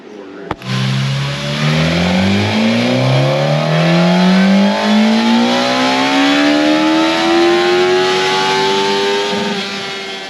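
A 2020 Suzuki GSX-S 1000 motorcycle engine on a dyno winds up in one long continuous pull, pitch climbing steadily from a low idle to a loud high-rpm howl over about ten seconds, then easing off at the end.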